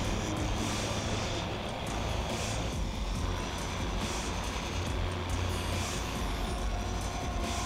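A train rushing past in Watch Dogs, a steady loud rumble with rattling wheel noise that holds constant throughout, close and continuous with no voices.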